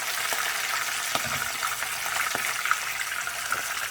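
Red snapper fillets frying Jamaican style in a hot pan give off a steady, close sizzle with scattered crackles and pops, with no speech over it.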